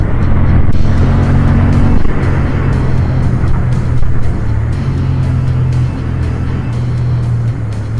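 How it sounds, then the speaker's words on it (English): Honda CB750 Hornet 2023 motorcycle engine running loud and close under load, a continuous strong drone whose pitch holds and then shifts as revs change, with no talking. "very refined engine. And I have to say that I don't feel any vibes, at least till 6000 revs."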